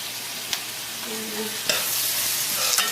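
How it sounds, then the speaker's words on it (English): Mushroom being stirred into a hot pan, a soft continuous sizzle broken by a few sharp spoon scrapes and clicks against the pan, close by with no talking. "just mix this up and let it cook for 2 minutes."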